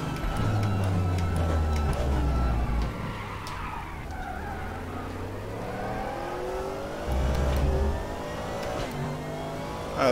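GT3 and DTM race cars in the RaceRoom game at Hockenheim, engines droning and revving continuously with gear-shift changes and tyre noise, a pack of cars close together, while someone commentates over them.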